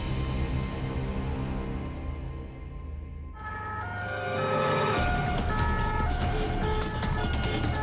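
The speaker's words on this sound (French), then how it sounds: "Entre Lacanau et Sainte-Hélène, sirène hurlante, Dorian et Maël sont pieds au plancher." A French gendarmerie police car racing to a wildfire in the Médoc with its siren wailing over engine and road noise, the tone shifting and growing louder and harsher partway through as it speeds along.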